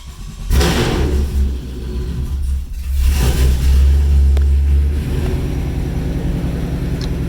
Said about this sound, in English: And she fires up.